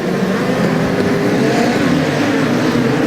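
Midget race cars race at Ruapuna Park, their engines making a loud, dense, continuous roar of several cars running close together, with no voices.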